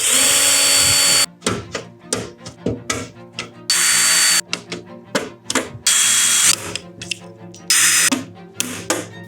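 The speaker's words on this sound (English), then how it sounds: "I need to drill out a few holes" A power drill bores holes for rivets in a loose panel on an abandoned Bentley, loud close whining bursts of a few seconds each, broken by short pauses and choppy grinding as the bit bites through the metal.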